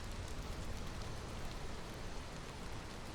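Steady, even rain of a drizzle season in the video game Against the Storm, a soft continuous hiss with no distinct drops, faint and constant, no voices.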